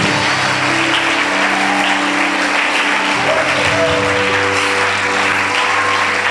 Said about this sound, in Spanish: Dele un aplauso al Rey de Reyes.